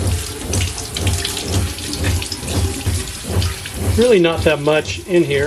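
Water runs steadily from a tap as kelp is rinsed out of a boat engine's raw-water sea strainer, with splashing under continuous flow and a voice speaking briefly near the end.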